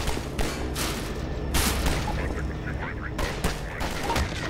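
Bursts of rapid gunfire crackle in quick volleys in Half-Life 2, with a steady busy background and a few sharp chirping effects between shots.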